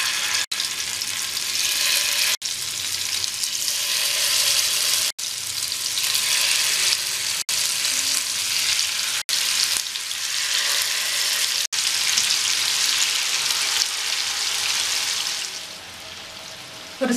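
Prawns fry in shallow hot oil in a home kitchen, giving a steady, loud crackling sizzle that runs unbroken, with a few brief dips, and no talking.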